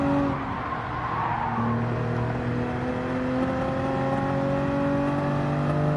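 Racing car engine from Gran Turismo 7 holds a loud, steady high-revving drone throughout, with shifting engine tones and a brief tire-squeal wash early on, heard alone without talk.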